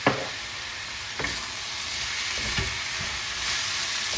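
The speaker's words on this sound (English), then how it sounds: "our rice is frying away here, so we're going to add a little bit of soy sauce now" Pork fried rice sizzling in a pan as soy sauce is added, a steady loud frying hiss with a few soft stirring knocks and no talking.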